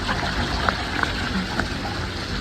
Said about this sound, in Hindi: ये देखो छत से पानी आ रहा है।